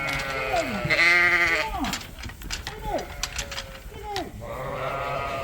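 Suffolk sheep on a farm bleat repeatedly, several wavering calls close by, with a person talking between them.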